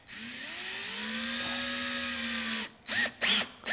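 A power drill drives a single-threaded screw into chipboard, its motor whirring steadily with rising pitch for a couple of seconds, then stopping, followed by a few short bursts as the screw bites down. Close and fairly loud, with no talking.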